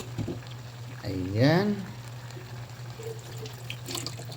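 A little water poured into a cooking pan of adobong sitaw, a brief hissing sizzle under a voice, with a steady low hum throughout.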